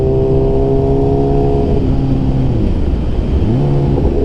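A 2008 Suzuki GSX-R 1000 with an M4 GP full exhaust, its muffler welding bracket broken, revs loudly close by, the engine tone climbing and dropping in a couple of throttle blips over a sustained roar.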